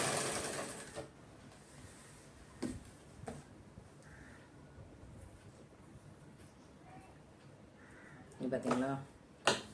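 A sewing machine stitches a fall onto a saree with a soft, steady mechanical whir close by, while someone talks over it and brief taps and clicks come through.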